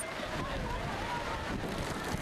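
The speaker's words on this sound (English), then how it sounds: "I'm here to watch the waves and experience the wind" Typhoon gale-force wind buffeting a waterfront with crashing waves, a loud, continuous roar of gusts and surf with microphone wind noise.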